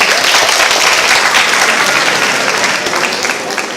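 Audience at a school Flag Day ceremony applauds after a student's name is called, a dense, sustained crowd clapping that fills the room and fades slightly near the end.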